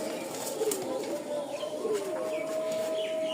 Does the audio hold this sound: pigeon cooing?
yes